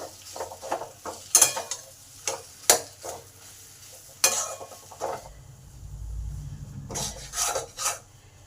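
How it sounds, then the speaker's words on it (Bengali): A spoon scrapes and stirs spiced potato filling as it fries in a pan for an egg bread toast, making repeated rasping strokes over a low, steady sizzle with no talking. "এবার আলুটাকে ভালো করে নেড়ে নেবো"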